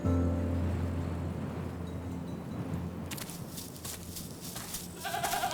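A goat shut in a dark barn bleats softly amid a storytelling scene with music and low ambient noise, the cries brief and moderately close.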